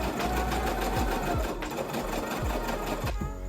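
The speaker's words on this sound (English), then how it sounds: "I'm going to baste the neck hole and the underbust seam." A sewing machine runs steadily for the whole stretch, basting layers of organza for a blouse, with a continuous close mechanical whir and rapid needle rhythm that pauses briefly near the end.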